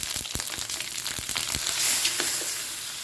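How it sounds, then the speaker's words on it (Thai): Chilies stir-fried in a hot pan with coconut milk for a catfish and bitter melon curry, sizzling and frying with scattered scraping stirs of a utensil, close and steady. "ผัดพริกให้หอมสักพักหนึ่ง"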